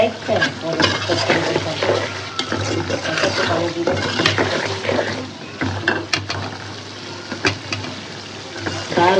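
Tengra fish cooks in a pan for a curry, with a busy sizzle broken by stirring scrapes and clinks of utensils up close, loud and uneven throughout.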